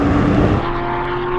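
Porsche 911 GT3 and Turbo S sports cars roar loudly in a drag race, with an engine note that drops in pitch as a car passes close and pulls away.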